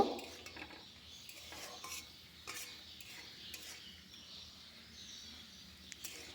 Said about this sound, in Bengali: সব কিছু একসঙ্গে নাড়াচাড়া করে নেব